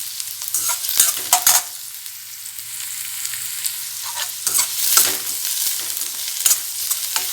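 Garlic and curry leaves frying in hot oil, a soft continuous sizzle broken by sharp crackling bursts and spoon stirring, close and alone.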